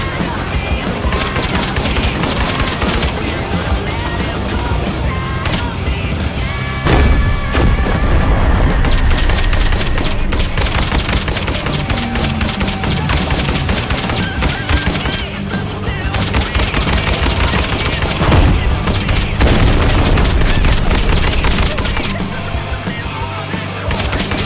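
Sustained barrage of gunfire and booming blasts, loud and dense throughout, with bursts like fusillades and heavy impacts layered over each other and almost no pause.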